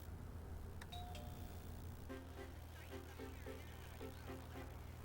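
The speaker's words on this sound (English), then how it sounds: "Please ring the bell if you want to get off." A bus stop request bell chimes once as a passenger signals to get off, a bright ding-dong over the steady low rumble of the bus engine, followed by a few soft repeated tones.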